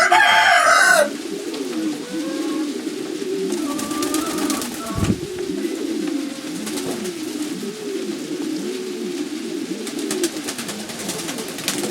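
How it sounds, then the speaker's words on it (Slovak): Modena pigeons cooing in a large dovecote, a steady layered murmur of soft rolling coos from many birds, with a brief brighter sound at the very start. "Pozrite na to holubičku."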